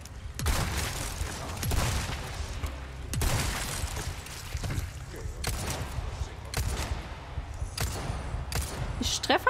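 Rapid bursts of gunfire in Resident Evil 4 Remake crack repeatedly over a dense, noisy backdrop, with talking mixed in underneath.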